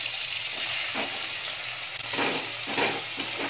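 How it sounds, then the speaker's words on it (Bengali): Chopped tomato frying in oil with cardamom and cinnamon for a veg biryani, a dense continuous sizzle with a few soft stirring scrapes, close up, no talking. "টমেটোটা প্রথমে একটু ভালো করে নাড়াচাড়া করে নিচ্ছি"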